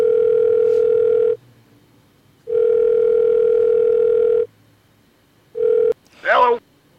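A landline telephone dial tone sounds loud and steady on speakerphone in long bursts broken by pauses, then a short tone and a quick rapid dialing blip at the end.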